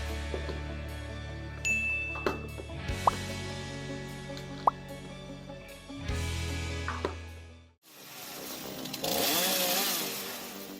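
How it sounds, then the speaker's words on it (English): A homemade automatic firewood processing machine with a custom chainsaw setup hums steadily with sharp metallic clanks and ticks, then its chainsaw roars loudly through small trees and branches. "This custom-designed chainsaw setup proves extremely useful when you want to efficiently cut small trees or branches."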